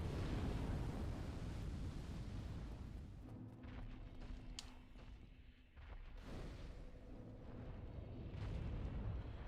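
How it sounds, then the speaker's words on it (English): Dragon breathing fire in the video game Dark Souls: a rushing, low roar of flame that swells, briefly dips, then surges back, heard fairly faint and distant with no talk over it. "Dragon comes, dragon breathes fire"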